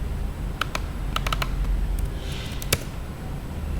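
A few quick keystrokes on a computer keyboard, typed into a password field of an HTML form, come in short scattered bursts over a steady background hiss.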